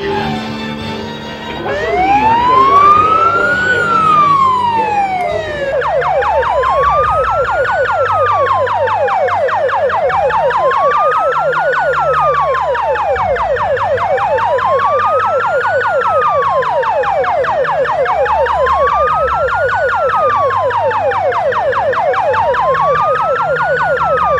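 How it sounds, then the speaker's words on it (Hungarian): A loud electronic siren sounds for a September 11 commemoration, a rising wail followed by steady repeated up-and-down sweeps lasting over twenty seconds, with no talk over it. "amikor most mindjárt megszólal a sziréna"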